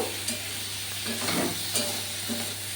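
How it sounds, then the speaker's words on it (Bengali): Eggplant and tomato being sautéed with salt, chili powder, turmeric and coriander leaves in a pan with little oil: a steady close sizzle broken by several scraping stirring strokes. "আরেকটু কষবো"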